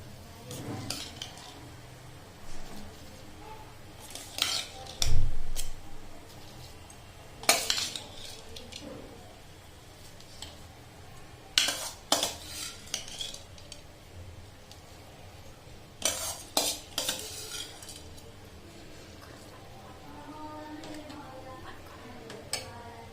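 Soaked whole basmati rice is added to salted water in a cooking pot and stirred, giving intermittent clinks of a spoon against metal and scattered splashy scraping, close but fairly quiet, with faint background voices.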